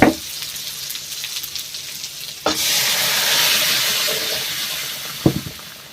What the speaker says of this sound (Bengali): এইবার ডালটা ঝোঁকে দেব।